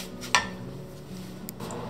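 Semolina roasts in ghee in a pan over low heat, with soft scraping and stirring against the pan, a sharp clink or two of a utensil, and a faint steady background.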